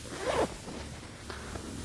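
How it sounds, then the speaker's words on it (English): Zipper being pushed closed on a fabric ottoman cover, a single short rasping zip near the start followed by faint rustling of the cloth, close and fairly quiet. "Try to push the zipper together, and it closes easily."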